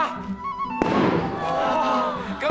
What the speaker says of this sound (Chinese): 今日系十五，冬天最后一次放烟火啊！